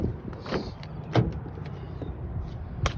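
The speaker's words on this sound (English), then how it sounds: "Let's start off with the driver door. So locking them, unlocking them." Driver door locks on a Toyota Highlander actuate, a couple of quick mechanical clunks over a low steady hum inside the parked vehicle, with no one talking.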